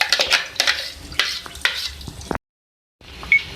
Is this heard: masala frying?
yes